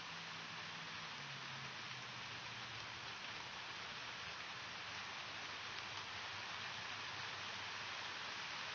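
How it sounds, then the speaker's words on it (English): Heavy rain pours steadily in a dense, continuous hiss, with no voices and no breaks throughout. "I'll let you guys listen to the rain."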